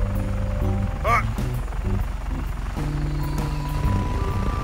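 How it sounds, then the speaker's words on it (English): An attack helicopter's rotor drone throbs steadily in a Just Cause 3 game scene, with a voice speaking briefly over it. "Is that an attack helicopter?"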